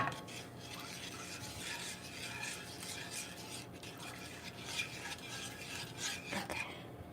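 A whisk stirs butterscotch-cinnamon pie filling in a bowl, scraping and clinking against the sides in a quick, steady rhythm that keeps going throughout. No one talks.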